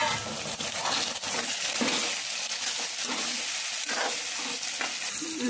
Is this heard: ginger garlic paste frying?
yes